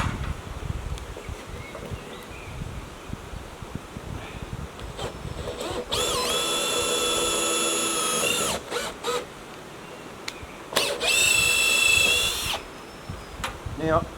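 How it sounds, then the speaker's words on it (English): A power drill bores a countersink hole in wood, running in two loud, close bursts of steady high-pitched whine with quiet handling sounds between. "Now, in drilling that hole,"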